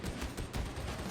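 A minigun in Warhammer 40,000: Darktide fires in a rapid, continuous burst of dense rattling shots, steady and moderately loud for about a second with no pauses.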